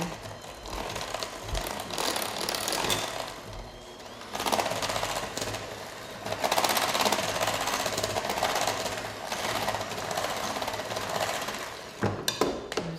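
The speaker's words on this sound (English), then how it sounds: "Okay, I'm gonna mix that in." An electric mixer whirs through cake batter in a bowl, a loud continuous mechanical buzz with brief dips and a few knocks near the end, no talk.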